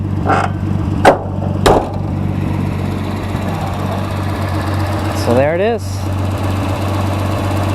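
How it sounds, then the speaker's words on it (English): A boosted 1976 Datsun 280Z, chassis S30Z, idles with a steady engine drone, then one quick rev rises and falls near the end. Someone talks over it, and a few sharp knocks sound early on. "It is happy to rev, man. This engine is happy to rev."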